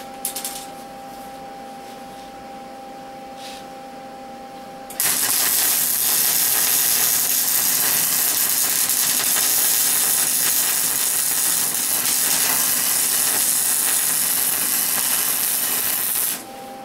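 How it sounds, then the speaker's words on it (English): Welding along the underside seams of a steel three-cavity ingot mold, a loud steady crackling hiss that starts abruptly after a few seconds of quiet workshop hum and runs unbroken for about eleven seconds, close up. "So I'm gonna weld underneath on all of these sections right here."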